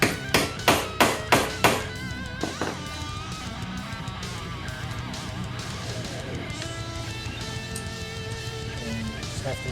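Metal hole punch hammered through leather for a replica wrestling belt: about six sharp, loud taps in quick succession, then a steady busy background noise continues for the rest.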